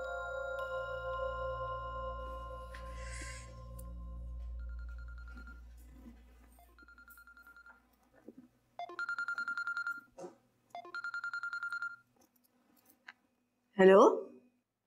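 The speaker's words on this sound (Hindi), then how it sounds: "फारिस का फोन है?" Telephone rings indoors in a domestic drama scene: a few short repeated ringing bursts after quieter background tones, followed by a brief loud clatter as the handset is picked up.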